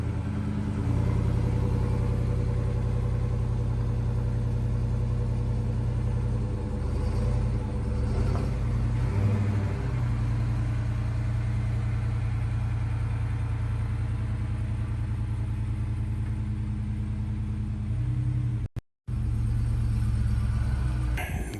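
A 2021 Dodge Challenger R/T T/A idles with a steady, close low-frequency rumble that holds for about twenty seconds, broken by one brief dropout near the end.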